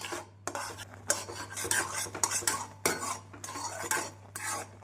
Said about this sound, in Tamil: நாம் பாதாமை சேர்த்த பின் கைவிடாமல் கிளறி கொண்டே இருக்க வேண்டும்